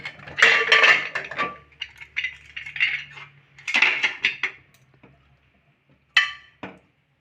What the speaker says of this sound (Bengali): চলুন কুকারটা খুলি ছোলেটা সিদ্ধ হয়েছে কিনা দেখে নিই